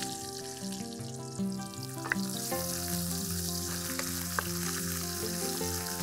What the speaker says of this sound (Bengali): যেহেতু তেল আমার গরম হয়ে গেছে আমি পুরোটা এখানে ফুরনের জন্য দিয়ে দিলাম